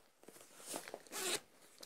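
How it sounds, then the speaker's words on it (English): Zipping the side pocket of a Nash H Gun rod holdall: two short, fairly quiet zipper rasps close by, the second one stronger, over faint handling noise and no speech. "There's a long pocket here which unzips right down the side."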